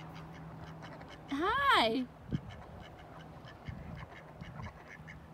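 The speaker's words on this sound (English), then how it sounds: "look at all the ducks coming at me" A single loud duck quack rings out near the start, followed by quieter ambient rustling and a brief greeting spoken nearby.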